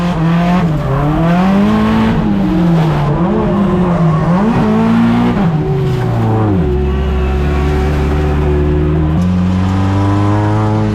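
A drift car in a drifting competition holds a loud, continuous engine note that rises and falls as it accelerates and shifts, steady and close throughout with no talk over it.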